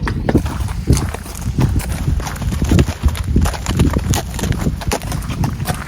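Hooves of a large horse clip-clop in a steady walking rhythm, close and fairly loud, with faint outdoor background and occasional soft noise.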